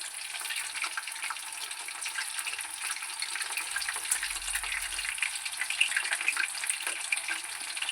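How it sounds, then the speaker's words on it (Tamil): Mushrooms frying in oil make a steady, fairly quiet hiss and fine crackle that runs continuously without pauses, and no one speaks over it. "காளான் வந்து எண்ணெய் போட்டு நல்லா வதக்கி பிடிச்சி எடுத்துட தான் சூப்பராக இருக்கும்"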